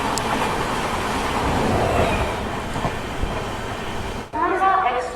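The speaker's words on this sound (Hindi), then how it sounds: "रात के 9:15 बज चुके हैं और अपनी पूर्वा एक्सप्रेस पहुंच चुकी है" Poorva Express train from Howrah to New Delhi arriving at night at a busy Indian station platform, with loud steady rolling rumble and clatter of wagons, broken near the end by a brief pause and a voice announcement.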